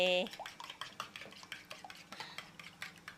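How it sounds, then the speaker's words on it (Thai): Eggs beaten in a bowl for a nem omelette, a utensil tapping and scraping against the bowl in quick regular strokes, close, after a brief clinking sound at the start. "ตีต่อนะคนให้เขาเข้ากันนะ"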